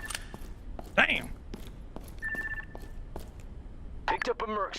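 A mercenary's phone rings inside a combat video game, a short electronic tone sounding briefly amid gunfire thumps, footsteps and game noise, with voices speaking around it.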